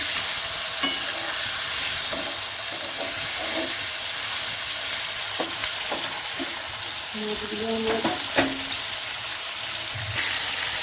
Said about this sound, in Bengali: মাছগুলো ভাজা হয়ে গেলে এবার আমি মাছগুলো তুলে নিচ্ছি